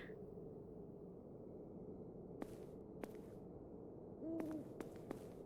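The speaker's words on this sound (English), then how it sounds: "so there's an owl there" A faint owl hoot sounds once in a quiet night scene on Memoria Island in the video game The MISSING. A few sharp clicks surround it over a low, steady background rumble.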